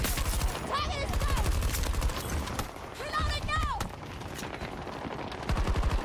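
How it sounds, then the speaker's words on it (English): Healing pistol in Battlefield 2042 amid dense, rapid bursts of gunfire from several sources, close and loud, with rising whooshing effects and a voice talking over the shots. "oh, it's a fucking healing pistol."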